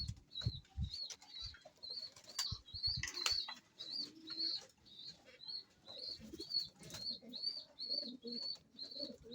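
Pigeons being tossed flap their wings in repeated bursts, with soft rhythmic cooing and chirps throughout, at moderate distance and fairly quiet.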